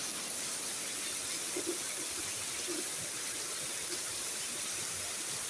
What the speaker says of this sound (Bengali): কিন্তু বৃষ্টি ঝরঝর করে পড়ে যাচ্ছে।